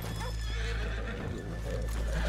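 A horse in the video game Red Dead Redemption whinnies loudly over the steady clip-clop of hooves, with a constant low rumble of background ambience throughout.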